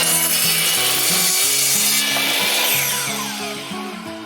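A table saw rips through a wooden board, the blade's steady whine and dense cutting noise loud and continuous throughout, easing slightly toward the end.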